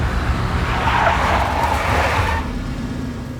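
A big black Mercedes skids in the video game Max Payne: a loud tyre squeal rises and holds over the car's rumble for about two seconds, then cuts off, leaving engine noise.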